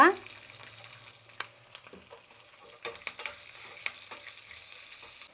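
Green chilies and asafoetida dropped into hot oil give a soft, steady sizzle, with light scraping stirs and occasional taps of a spoon against the pan, quiet and close.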